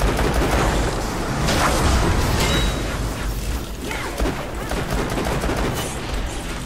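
Continuous gunfire in the shooter game Borderlands: The Pre-Sequel, a dense, loud clatter of rapid shots layered with mechanical weapon noise and battle effects, steady throughout.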